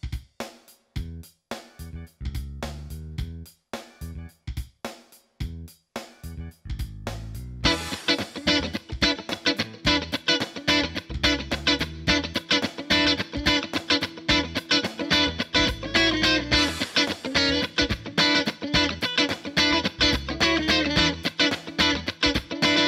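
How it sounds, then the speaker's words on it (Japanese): An electric guitar plays clean, choppy rhythmic cutting with a short reverb, sparse strummed chords at first that settle into a fast, tight, steady groove, loud and without any talking. "このぐらいの短いリバーブにしてみると、より歯切れよくカッティングができると思います。"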